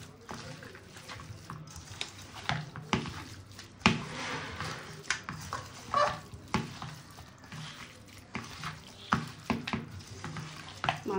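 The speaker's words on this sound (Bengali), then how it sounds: "এবার একটু সরষার তেল দিয়ে দিলাম, এবার এটাকে ভালো করে মেখে নেব।" Hands squish and knead raw mutton with mustard oil, giving wet, irregular slaps and squelches close by, with occasional clinks and a voice talking quietly at times.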